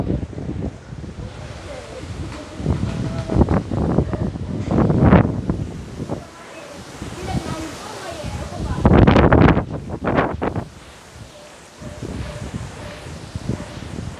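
Strong gusting wind during Typhoon Ulysses in the Philippines, roaring in repeated surges and buffeting the microphone, with rustling and people talking at times.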